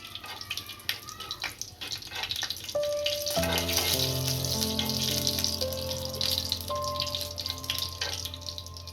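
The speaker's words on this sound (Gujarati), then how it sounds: "આપણું તેલ સારી રીતના ગરમ થઈ ગયું છે, આમાં હવે જીરું નાખીશું। જીરુંને ગરમ થવા દઈશું।" Cumin seeds dropped into hot oil for Rajasthani garlic chutney, a sudden crackling sizzle that starts after a few seconds of quieter noise and continues steadily, fairly close and loud.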